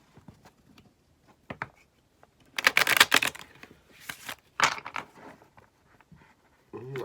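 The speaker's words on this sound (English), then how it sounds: "let's give you guys a good shuffle." Tarot cards being shuffled by hand, sparse riffles and soft flicks building into a couple of loud, close bursts of rapid card snapping, with quieter taps and shuffling between them.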